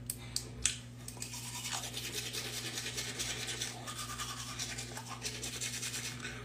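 Brushing teeth with a toothbrush indoors, a steady close scrubbing rasp running throughout over a constant low electrical hum, with a few sharp knocks near the start.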